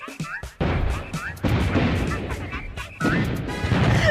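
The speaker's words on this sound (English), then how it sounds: "Cannons firing, Malomart's playing." Cannons in Dragon Age Inquisition fire in heavy booming blasts, three big impacts spaced about 1.5 seconds apart with rumbling decay, loud amid game noise and speech.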